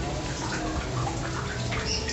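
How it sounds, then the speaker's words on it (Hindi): Water steadily trickles and drips into the Ganesh kund, a temple water tank at Tapkeshwar Mahadev temple in Narwar, Shivpuri, Madhya Pradesh, as a continuous wet splashing wash close by with no clear voices. "यहाँ पे बताते हैं कि पानी टपकता रहता है।"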